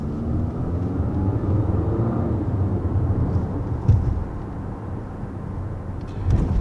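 A 2022 Infiniti QX55 coupe-style SUV with a CVT accelerates hard from a standstill. A steady, heavy engine and road rumble holds from inside the cabin, with a brief bump near the middle and no talk.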